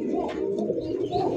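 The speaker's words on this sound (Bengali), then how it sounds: "ব্ল্যাক কালার শৌখিন কবুতর দেখেন, দুই বাচ্চা নিয়ে বসে রয়েছে।" Pigeons at a pigeon farm coo in a low steady murmur, with soft overlapping throaty calls running throughout the brief moment, fairly quiet and without speech.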